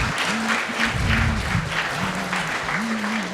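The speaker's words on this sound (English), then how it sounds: "let's hear a round of applause" A crowd applauds steadily at a campus speaker event, dense continuous clapping with a voice talking over it.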